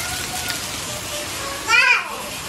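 Steady broadband hiss of heavy rain on a farmhouse in Pratinha, Minas Gerais, fills the clip, with a voice briefly rising over it near the end.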